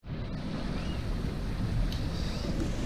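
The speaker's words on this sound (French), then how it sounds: "le vent s'est bien levé" Steady wind noise and rushing water aboard a sailboat crossing the Bay of Biscay in a freshening breeze, a continuous broadband roar with wave wash, close and loud throughout.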